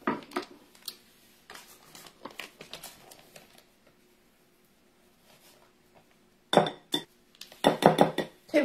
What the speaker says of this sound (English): Now we're going to add powdered sugar to it and fluff it up.